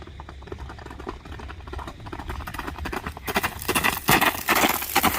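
A Kyrgyz horse's hooves clip-clop in a quick, even rhythm, starting softer and growing louder and sharper as the animal comes closer, with no talking over it.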